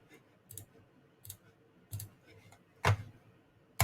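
Mouse clicks adding photos to a Google Photos album: about five quiet, separate clicks spaced irregularly, with the last one a little louder, over a faint background.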